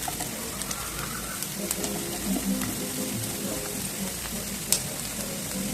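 Onions frying in a hot oiled pan for dosa, a steady low sizzle running throughout with faint scattered clicks and ambient background noise.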